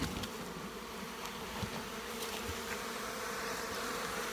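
Honey bees buzzing around a beekeeper's hive boxes in the open, a dense continuous hum with individual insects droning close past.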